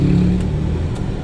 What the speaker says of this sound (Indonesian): ini namanya persilangan antara mobil-mobil dan motor.